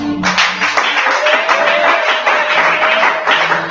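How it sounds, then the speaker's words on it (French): A church congregation breaks into applause, a dense steady wash of many hands clapping close and loud, with a faint sustained tone running beneath and no one speaking over it. "Quelqu'un peut applaudir le Seigneur."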